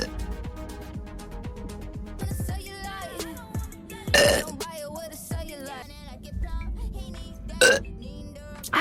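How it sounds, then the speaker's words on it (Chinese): A VTuber burps twice during a stream, with short throaty bursts at about 4 and 8 seconds. Both sit over busy music and game sounds that continue throughout. "sorry， 这个嗝打的"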